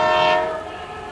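A passing railway train roars loudly with a sustained horn-like tone that starts strong and fades slightly over about a second, with no voices.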